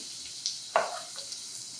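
Oil sizzles quietly in a pan, with a few soft crackling pops as cumin seeds drop into the hot oil with green chilies and turmeric.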